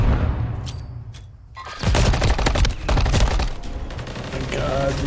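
Dense video game gunfire: bursts and rapid automatic shots crowd together from about two seconds onward, loud and continuous, after a quieter start with scattered sounds.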